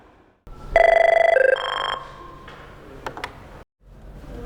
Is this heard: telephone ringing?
yes